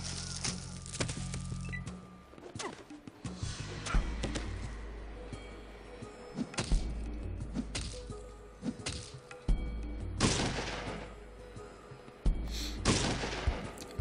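Gunfire in the Fallout video game, with sharp cracks and bursts of shots scattered between quieter game sounds and background music.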